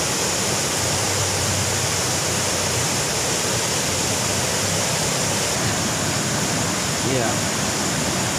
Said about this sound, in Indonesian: Nah, ini air terjun Gunung Banteng